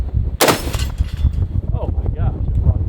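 A single sharp, loud blast as sticky targets shot with a Bushmaster ACR rifle explode outdoors, a short booming burst followed by rumbling noise while someone talks afterward.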